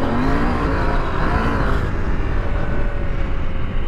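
A KTM 890 Adventure R motorcycle on its first off-road ride, only 19 miles on it, its engine droning and revving up close under loud rumbling noise, with no speech.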